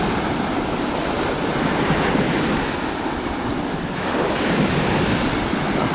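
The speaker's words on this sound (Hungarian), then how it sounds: "Azt a micsoda hullámok." Ocean surf rolls onto a fine sandy beach, a loud, continuous wash of breaking waves with wind buffeting the microphone and no voices.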